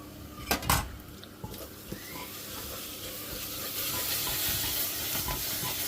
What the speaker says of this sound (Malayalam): സബോള ഇതിനകത്ത് വഴന്നു കഴിഞ്ഞ് നമ്മൾ ഈ അരച്ച് വെച്ച അരപ്പും കൂടെ ഇട്ട് ഒന്ന് വഴറ്റുവാണ്.